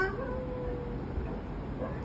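A cat gives a short meow at the start and a fainter one near the end, over a steady low background hum.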